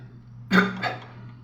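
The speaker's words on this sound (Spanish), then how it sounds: "Disculpen por la tos" A single cough bursts out with a short second hack right after it, close and fairly loud, over a steady low hum, with no talking.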